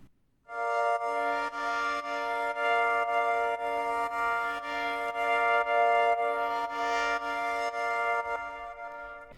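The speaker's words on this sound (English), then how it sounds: "a simple pad playing the root chord" A smooth synth pad holds a sustained root chord, a rich, steady drone that swells slightly and never breaks.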